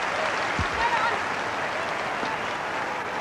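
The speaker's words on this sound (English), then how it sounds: "Big cheer for the crowd" Crowd in a huge arena at a competitive event, breaking into sustained applause and cheering that holds as a dense, even roar throughout.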